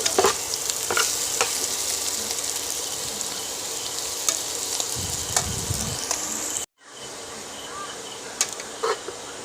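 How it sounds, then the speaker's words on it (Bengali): Steady, dense sizzling of potatoes frying in hot oil, broad and crackly throughout, with a brief dropout near the end before the frying resumes. "আমার আলুটা ভাজা হয়ে আসছে"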